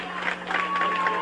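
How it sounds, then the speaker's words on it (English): Election night crowd cheering and applauding as President Carter arrives at a 1980 campaign event, a steady wash of massed voices and clapping with no pauses, moderately loud and fairly close. "Crowd is cheering"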